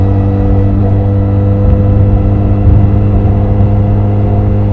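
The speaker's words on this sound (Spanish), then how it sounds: "esta Benelli Leoncino 500 se muestra muy estable y con un motor más que suficiente para acelerar de una manera perfecta y genial" A 2021 Benelli Leoncino 500 motorcycle engine drones loud and close on a highway, holding a steady pitch that swells slightly as it pulls, with wind rush underneath and no talking.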